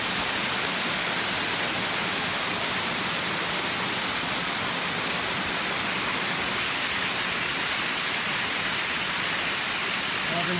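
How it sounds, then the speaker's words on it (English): Secret Falls, a waterfall roughly 60 feet high near Woodsville, New Hampshire, pours in a steady, loud broadband roar that stays constant and alone for the whole stretch. "Secret Falls, Woodsville, New Hampshire"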